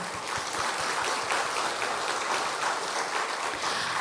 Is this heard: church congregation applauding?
yes